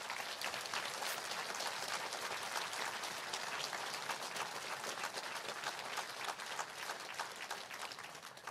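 Round of applause for the helpers of the Ship Hector project: a crowd claps steadily and evenly, distant and fairly quiet, holding without a break throughout.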